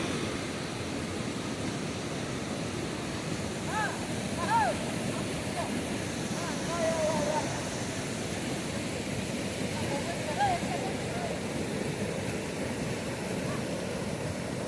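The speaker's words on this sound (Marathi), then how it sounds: "फारच मोठ्या प्रमाणात पाण्याचा प्रवाह चालू आहे।" A broad, steady roar of water rushing through Agnavanti dam fills the scene, with faint murmuring voices of a crowd in the background.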